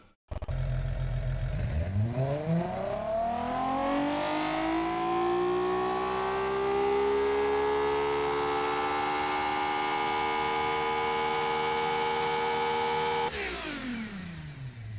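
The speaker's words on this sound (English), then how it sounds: "that sounds really nice for a V6, and the twin turbo doesn't really hamper that sound at all" A twin-turbo V6 engine in a video game revs up from idle with a rising whine, holds a loud sustained high-rpm drone for several seconds, then drops off sharply.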